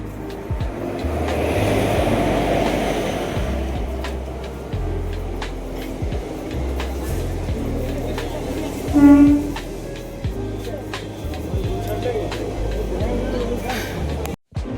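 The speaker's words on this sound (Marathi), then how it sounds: "या ठिकाणी ट्रेन आलेली आहे, आता आपण ट्रेनमध्ये बसून जाऊ पुण्याला" A passenger train pulls into a busy station on a route to Pune, with a low rolling rumble, a short horn-like blast midway, and voices of people in the background.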